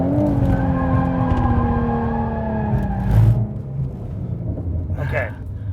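A Ford Mustang drifts with a long, wavering tire squeal over a loud engine rumble, fading and sliding in pitch before a shorter skid near the end, with voices excited nearby.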